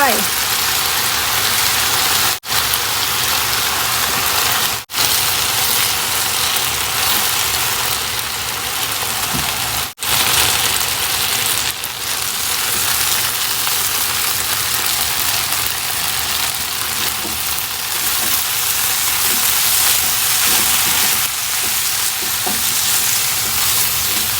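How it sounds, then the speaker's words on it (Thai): An egg cracked into a pan of stir-fried glass noodles and vegetables seasoned with soy sauce, producing a loud, continuous sizzle and crackle close up that holds steady throughout. "ต่อไปแหวกตรงกลางนะคะ ใส่ไข่ลงไป"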